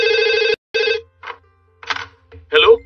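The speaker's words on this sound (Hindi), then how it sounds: "इस फोन को भी अभी बजना था" An old-style telephone bell in a Doraemon cartoon rings loudly in two close bursts, and a voice speaks just after them.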